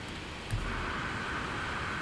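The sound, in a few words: heavy rain in the video game No Man's Sky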